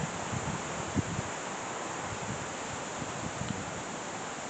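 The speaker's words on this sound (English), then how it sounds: "Wind's picking up." Steady broadband wind rushes and buffets outdoors, a constant close roar against the microphone with a few low gusty thumps and no voices.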